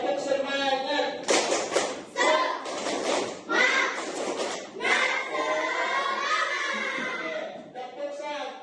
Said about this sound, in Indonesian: Untuk tambah lebih semangat lagi, kita tepuk semangat.